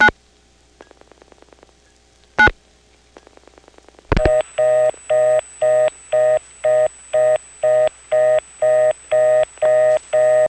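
Dialing on a 1977 step-by-step telephone exchange with register senders in Prince William County, Virginia: faint clicks and a sharp tone early on, then a steady run of loud, evenly spaced repeating tone pulses.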